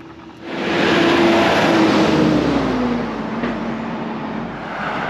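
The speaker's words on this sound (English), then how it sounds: "car coming out of that driveway" A car pulls out of a driveway on a road, its engine note swelling up after a quiet start and then holding as a steady, fairly close rumble and tire hiss.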